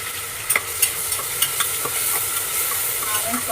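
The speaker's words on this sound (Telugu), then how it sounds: "ఆనియన్స్ కూడా బాగా వేగాలండి." Onions frying in hot oil in a pan for mutton biryani, a bright steady sizzle with occasional stirring clicks and scrapes, close and continuous without speech.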